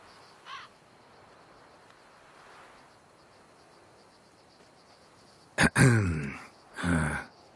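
Crows cawing in The Witcher 3, a faint short call early on over quiet ambience, then loud harsh close caws in a quick burst followed by another raspy call near the end.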